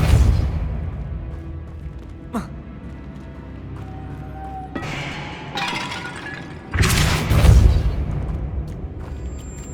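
Spell effects from the Hogwarts Legacy video game, including the Depulso force spell, come as separate bursts: a sharp crack, then whooshing thuds and a loud, heavy blast near the end, with no talking.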